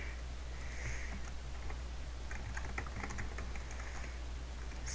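Faint, steady keyboard typing in a quiet room while someone writes out code for a min-tracking stack, scattered keystrokes clustering toward the middle over a constant low hum, with no talking.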